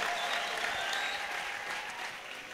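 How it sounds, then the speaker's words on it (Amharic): A church congregation applauds and ululates in praise, a faint, continuous wash of clapping from a crowd that holds steady throughout, heard at some distance with a few voices mixed in. "እልልታ ጭብጨባ ለጌታ"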